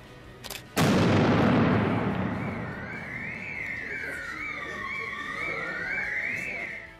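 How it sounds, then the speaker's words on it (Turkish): A sudden loud blast from a controlled explosion of a suspicious package booms and rumbles away, followed by a wailing siren rising and falling in the background. "Kontrolü patlama."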